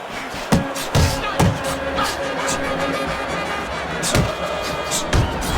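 Punches landing in a Fight Night boxing video game, a string of sharp thuds and slams spread over a steady crowd roar, with close, loud impacts that come in irregular pairs and singles.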